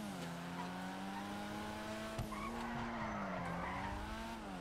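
A Volkswagen Gol in GTA 5 Online drifts with a long continuous tire squeal over a steady engine drone, the pitch wavering as the car slides.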